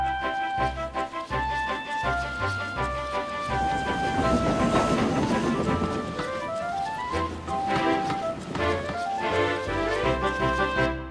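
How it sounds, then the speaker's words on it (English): A steam train pulling an express thunders past, its rumble swelling through the middle and fading, under steady orchestral music with no voices. "Henry derailed as Gordon thundered past with the express"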